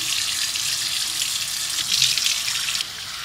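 Water runs steadily from a bathroom tap into a sink while hands are washed before a skincare routine, a continuous close splashing hiss that swells briefly near the end.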